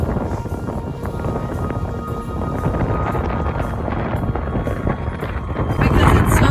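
Loud, constant arctic wind roars across the microphone in Svalbard while tents are put up, buffeting harder toward the end, with faint clatter mixed in.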